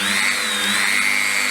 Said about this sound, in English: that is the drill on there.